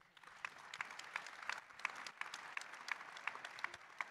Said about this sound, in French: Cher Olivier, que vous pouvez applaudir à nouveau.